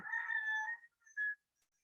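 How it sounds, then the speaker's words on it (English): A rooster crowing, one drawn-out, strained call that fades after under a second, followed by a shorter, clipped second cry, fairly distant and with no other sound around it. "I got a rooster going crazy"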